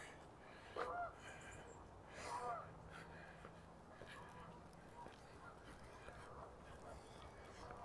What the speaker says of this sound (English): you can probably hear the geese